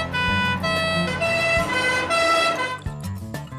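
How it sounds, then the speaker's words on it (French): An ambulance siren in a French cartoon wails loudly and close with repeating two-tone pitch cycles, then cuts off into a few short knocks and clatters. "envoyez tout de suite une ambulance rue des Bleuets"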